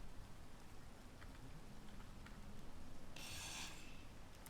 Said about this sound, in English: It looks like it's raining.